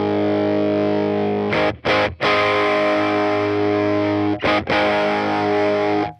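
Electric guitar played through a UAFX Dynacomp compressor pedal, sustained distorted chords ringing with a few brief gaps where the strings are re-struck, steady and loud with no talking.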